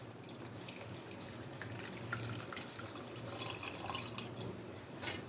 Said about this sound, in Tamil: பாலை இப்போ இதில் விட்டுக்கலாம்.